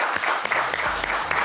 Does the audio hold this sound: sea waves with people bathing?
no